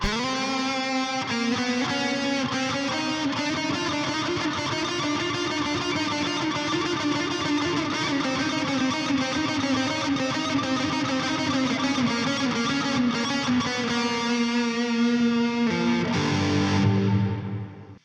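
Electric guitar through a JST ToneForge Misha Mansoor amp plugin playing sustained chords drenched in reverb, a continuous wash of ringing notes that fades out with a lingering tail at the end.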